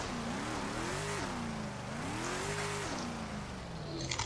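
An Audi in the FiveM driving game revs steadily throughout, its engine pitch climbing and falling in two long surges, loud and continuous with no talk over it.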